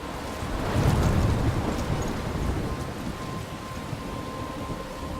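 A thunderstorm in the video game Life is Strange brings steady, hissing rain, with a deep rumble of thunder swelling early and then fading into continuous downpour. No voices.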